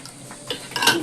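Metal plates and glasses clink lightly at home around mealtime, with two brief, close clatters in otherwise quiet surroundings.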